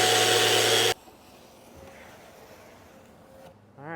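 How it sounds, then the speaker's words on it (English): A loud power sander whines briefly against the edge of a rosewood live edge slab, then cuts off, leaving a faint low hum and a quiet room before it starts up again. "I'm just gonna kind of sand this edge so it's all smooth"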